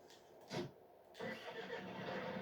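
A large John Deere farm tractor engine cranks and catches, with a short burst of starter noise followed by the engine firing up into a steady running rumble, heard at moderate distance.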